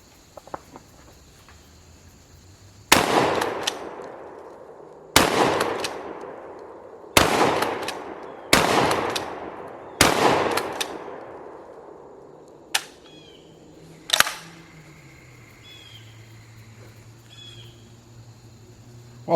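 A Blackwater Sentry 12 modular 12-gauge shotgun fired with game loads outdoors, five loud sharp blasts spaced about two seconds apart with ringing decay, then a couple of softer clanks and faint voices.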